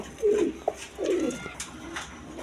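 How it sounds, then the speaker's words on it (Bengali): Danish pigeons, a pair of thick-beaked red three-bar birds, give two or three soft, throaty coos close by, with a brief click between them and no talking. "না একদম সুস্থ সবল কবুতর আলহামদুলিল্লাহ"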